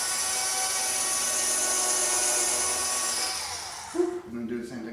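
A power drill bores straight down into a wooden board during an arcade cabinet build, a loud, steady high-pitched whine that winds down near the end, followed by brief clattering handling noises.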